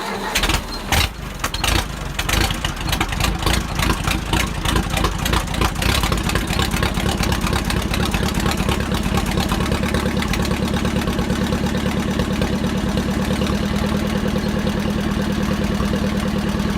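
Ford 800 tractor engine cranking, catching after a few uneven bursts, then settling into a loud, steady, close idle with a low rhythmic thrum and no talk.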